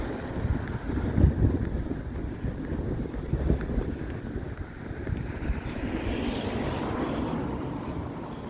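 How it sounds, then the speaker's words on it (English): Steady wind buffets the microphone on a winter city walk through Halifax's South End, a continuous loud rumbling roar with gusty low-end thumps and no voices. "Apologize for any of the wind that you're experiencing."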